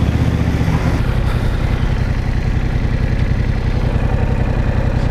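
A 2021 Yamaha MT-07 motorcycle idles close by in its stock, unmodified state, a steady low throbbing engine pulse that stays loud and even throughout.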